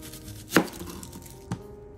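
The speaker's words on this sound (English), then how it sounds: "cut our onion up." A knife chops an onion on a board with two sharp cutting knocks about a second apart, close and clear over a quiet kitchen background.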